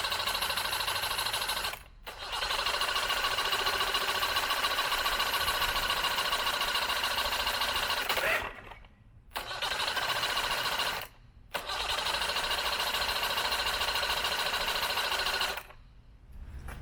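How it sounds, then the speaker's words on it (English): Starter motor cranking a 1982 Mercury 40hp outboard engine, a loud steady whirring drone held for several seconds at a time, broken by three brief pauses between cranking bursts. "I'm going to let the starter motor cool down"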